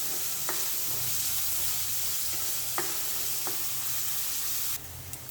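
Evening snack mixture frying steadily in a pan, a constant close sizzle with a few brief stirring scrapes throughout and no talking.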